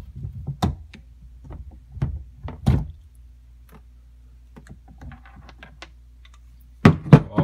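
A faucet handle is yanked off during a squeaky faucet repair: scattered knocks and hard thunks of metal and plastic, with a quiet rattling stretch and then a burst of loud clunks at the end, with no speech.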